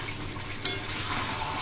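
Potatoes tossed with spices and whole dried chillies in a frying pan give a brief, steady sizzle with one sharp scrape of the spoon partway through.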